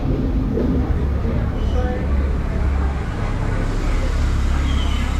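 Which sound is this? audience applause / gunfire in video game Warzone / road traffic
road traffic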